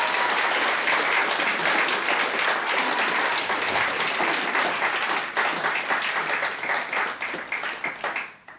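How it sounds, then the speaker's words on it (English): An audience at a panel discussion on Australia's housing affordability crisis gives sustained applause, dense and fairly loud clapping that holds steady before thinning into scattered claps at the end. "could we just give the panel a bit of a round of applause?"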